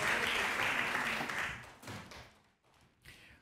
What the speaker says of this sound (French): je vous propose d'applaudir Anne Martel